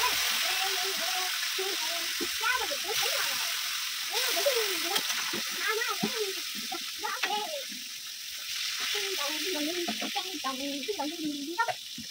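Vegetables fry in a home kitchen with a continuous hissing sizzle, while people talk over it.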